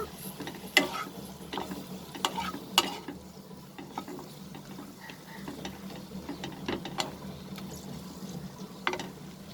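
Vegetables for a restaurant-style mixed veg dish are stirred and sautéed in butter in a pan, with a soft steady sizzle under repeated scraping clicks and knocks of a spoon against the pan. No one speaks.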